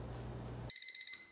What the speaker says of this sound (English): Every morning when the alarm goes off, it's really difficult to get up.